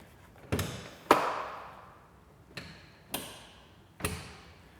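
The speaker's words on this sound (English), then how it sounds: "We'll hear our first click and apply pressure to get our second click." A door latch on a Polaris Ranger XP 900 side-by-side clicks shut in five sharp, close taps, spaced unevenly with short decaying rings after each, and no talking.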